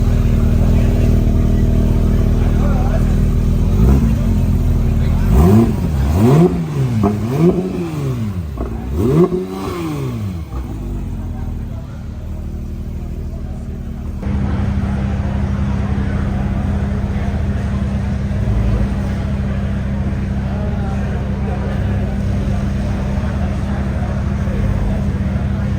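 Yellow Porsche 911 992 GT3 RS engine blipped in three quick, rising and falling revs up close, then settling into a steady, loud idle drone.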